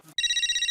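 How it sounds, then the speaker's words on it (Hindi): A mobile phone ringtone starts abruptly and trills loudly in a rapid, bright electronic pulse, heard up close for under a second right after a short bit of speech. "अब ये किसका फोन आ रहा"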